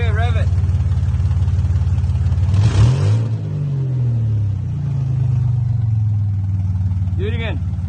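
A 1986 Chevrolet Camaro with a 2.8 liter fuel-injected V6 idles with a steady rumble, then revs up once and settles back to idle, close and loud, with brief talk at the start and end.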